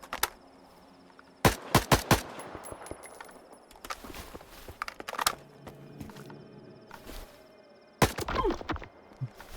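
Sharp gunshots in the video game STALKER 2, scattered single blasts and short bursts with quiet gaps between them, some louder clusters near the end.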